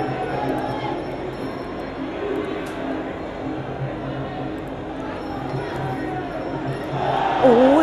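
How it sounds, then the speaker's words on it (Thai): Crowd cheering at a Muay Thai fight, Trakulpetch versus Kengkaj, a steady roar of spectators with rhythmic shouting, moderately loud, swelling near the end with whistles and voices. "ตอนนี้เสียงเชียร์เนี่ยมีนะครับ"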